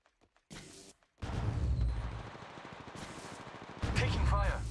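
Gunfire in the mobile game Apex Legends Mobile starts after a few faint clicks and builds into loud, rapid bursts with a dense low-end boom. The shooting continues through the clip with brief gaps and some game voice under it.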